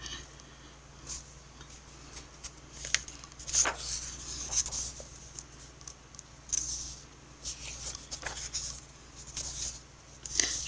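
Crayon or pencil coloring in a coloring book, soft scratchy strokes rubbing across paper in an uneven rhythm, close and quiet, with no voices.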